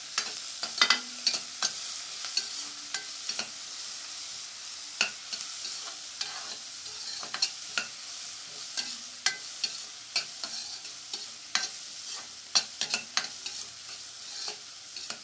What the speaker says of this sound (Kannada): ಚೆನ್ನಾಗಿ ಬಾಡಿಸ್ಕೊಳ್ಳಿ ಈರುಳ್ಳಿನ,